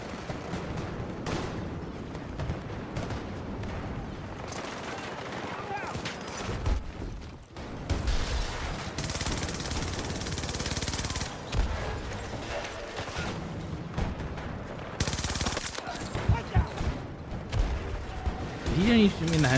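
Gunfire in the video game Battlefield 6, bursts of shots and booming impacts throughout a busy battle, with a person talking over the fighting.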